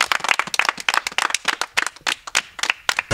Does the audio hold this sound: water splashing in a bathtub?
no